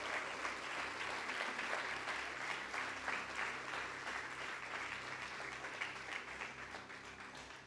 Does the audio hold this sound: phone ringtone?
no